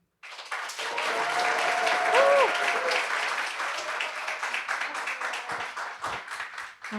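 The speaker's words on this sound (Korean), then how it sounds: "우리 모두 그 용기를 함께 드리기 위해 뜨거운 박수와 함성으로 마리엘 연사님을 무대로 모시겠습니다." An audience at a youth climate conference in Korea breaks into warm applause and cheering to welcome a speaker to the stage. The sound swells quickly into a sustained, dense wave of clapping that tapers toward the end.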